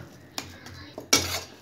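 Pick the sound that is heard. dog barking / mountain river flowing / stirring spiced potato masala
stirring spiced potato masala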